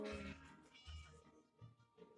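Several soft, faint meows from a cat in the Scary Teacher game, coming in short repeated cries over a low background.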